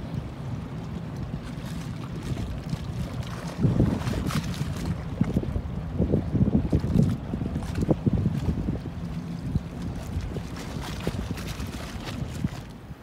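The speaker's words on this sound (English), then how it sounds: "we're sailing out of the Sawyer Glacier field. Got about 10 knots behind us." A sailboat runs downwind at about 10 knots out of the Sawyer Glacier field, with soft, uneven rushing and low thumping of water and wind against the hull, faint and steady throughout.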